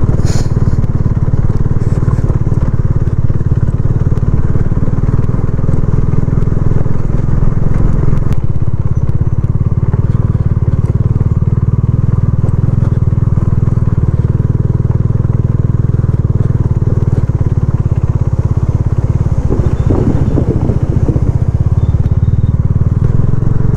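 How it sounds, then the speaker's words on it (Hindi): A Bajaj Dominar motorcycle riding a snowy mountain road near Kunjum Pass in Spiti gives a loud, unbroken engine drone mixed with heavy wind buffeting throughout. "और बाइक का भी ध्यान रखना क्योंकि ये मोहित की डोमिनार है"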